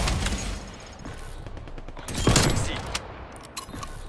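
Sniper rifle shots fired in Call of Duty: Cold War multiplayer, with a loud blast near the middle standing out over scattered distant gunfire and background game noise.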